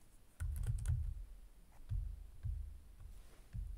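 Someone types variables into a formula in FreeCAD on a computer keyboard: short, soft bursts of key clicks separated by brief pauses, close by and fairly quiet.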